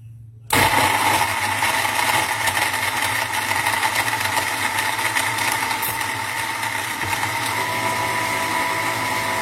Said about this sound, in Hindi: ब्लेंडर को कर देंगे बंद